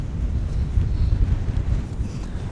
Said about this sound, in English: You can probably hear the wind, and not me.